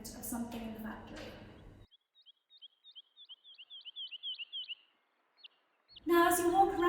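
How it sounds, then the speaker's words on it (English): Recorded birdsong plays in a quiet art gallery exhibition, a run of short high chirps repeating in quick succession between stretches of talk. "as you walk around the exhibition, you hear some bird noises."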